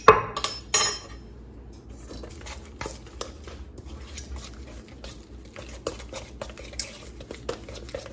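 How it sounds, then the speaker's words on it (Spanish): Powdered sugar being mixed into cream cheese in a bowl for a carrot cake, starting with sharp clinks of utensil on dish, then soft scraping and stirring taps throughout, close up and fairly quiet. "Vamos a ir agregando lentamente el azúcar y mezclándola con el queso crema."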